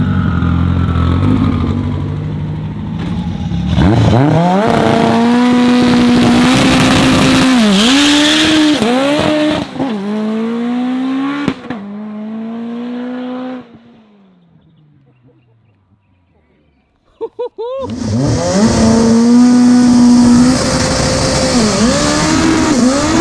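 A 1400 hp all-wheel-drive Honda Civic EG launches and accelerates hard, its loud engine climbing through rapid gear changes, then dropping off and lifting back to a roar, heard from inside the car.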